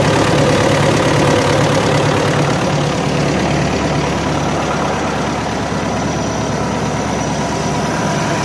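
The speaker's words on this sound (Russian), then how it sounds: "Турбинка работает тоже." Diesel forklift engine idling with its turbo running, a loud, steady low rumble with a faint whine layered on top, close by and continuous throughout.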